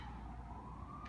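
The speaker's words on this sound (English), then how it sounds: "It wouldn't be a sketchbook video unless we had a siren." A siren from an emergency vehicle passing outside carries in faintly as a thin, steady wailing tone over quiet room hiss, slowly edging higher in pitch.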